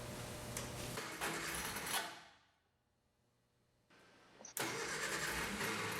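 A 1966 Triumph Spitfire MK2 with a failing starter motor cranks loudly for about two seconds, cuts out to near silence, then a faint whir returns before the cranking bursts back in at full volume.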